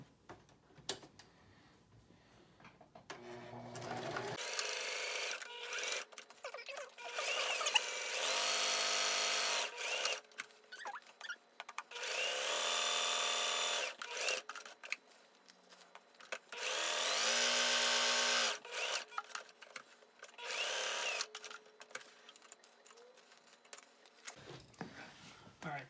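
A sewing machine whirs in several bursts of rapid, steady mechanical stitching on a fabric face mask, stopping and starting between runs, with brief handling noises in the pauses.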